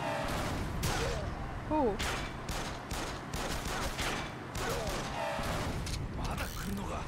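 Gunshots in the video game Yakuza Kiwami, a rapid stream of clattering shots and mechanical clicks that keeps going almost without pause, loud and busy, with a man's brief exclamation over the gunfire.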